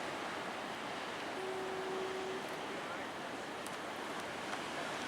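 Big ocean waves at Mavericks roll in as a steady, broad roar of surf and wind, continuous and fairly loud throughout with a brief faint tonal hum in the middle.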